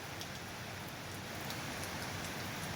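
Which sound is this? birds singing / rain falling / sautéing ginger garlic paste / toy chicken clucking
rain falling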